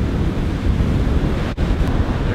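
Strong wind buffets the microphone beside rough surf on a beach during surf fishing, making a loud, constant rumbling roar with no talking and one brief dropout partway through.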